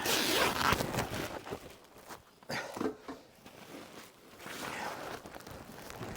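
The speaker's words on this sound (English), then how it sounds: "give that a cut with knife" A utility knife slices a sheet of membrane for a garden room base in a few rasping, zip-like strokes separated by brief pauses, close up with no speech.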